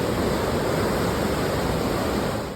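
Floodwater of the swollen Krishna river at Wai rushing after days of heavy monsoon rain, a steady, dense roar of turbulent water that holds constant and close with no voices.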